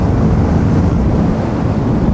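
Kawasaki Z650 twin-cylinder motorcycle fitted with an Akrapovic exhaust accelerating, heard as a loud, rushing low roar mixed with heavy wind buffeting on the microphone, steady and close for a couple of seconds.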